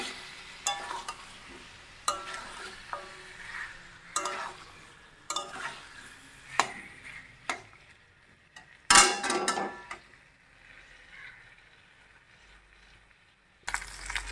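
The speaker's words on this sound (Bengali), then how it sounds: "এখন এটা কম করে 10 থেকে 15 মিনিট মাংসটা আস্তে আস্তে ধীরে ধীরে মশলাটা দিয়ে কষাবো, একদম সুন্দর ভাজা হয়ে যাবে মাংসটা।" Mutton being stir-fried with spices in a pot, heard as irregular close scraping and clattering spoon strokes over a soft sizzle, with quiet gaps between bursts and no talking.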